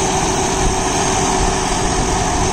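A John Deere 5075E tractor with an AC cabin and creeper option runs at a steady, loud engine drone with a constant hum, close by, in a banana plantation with no talk.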